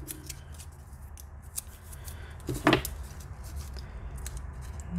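Scissors snip washi tape with a short, crisp cut near the middle, close and fairly quiet over faint room noise.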